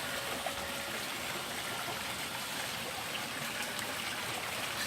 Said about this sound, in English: I think the sound of water is very relaxing.